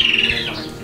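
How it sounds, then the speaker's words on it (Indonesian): A caged cucak cungkok songbird gives a single close, loud call, a shrill squawking note followed by a brief rising chirp. "Ini burung yang sering bunyi sih malam sama sore,"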